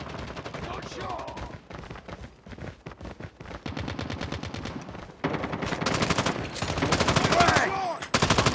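Sustained machine gun fire in Call of Duty Mobile, long rattling bursts that grow louder and more intense partway through, with brief pauses between volleys.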